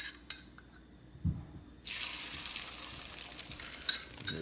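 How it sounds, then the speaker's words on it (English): A beaten grade A egg poured into a heart-shaped frying pan greased with spray olive oil, a soft knock and then sudden steady loud sizzling that continues to the end. "It's sizzling there."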